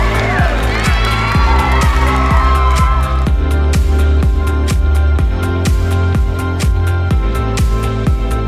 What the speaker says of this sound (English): Give a big round of applause, please, ladies and gentlemen, Arden and Patrick Wyman.